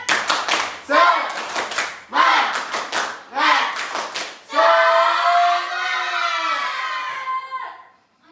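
A classroom of children performing a rhythmic clapping chant, bursts of patterned claps and chanting voices in short phrases, then a longer sustained shout that fades out near the end.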